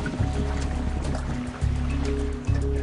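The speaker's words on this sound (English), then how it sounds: "It's time to pump in water and to abandon ship." Water being pumped into a ship to scuttle it: a loud gushing, sloshing flow over a low mechanical drone that pulses in three surges, close and without speech.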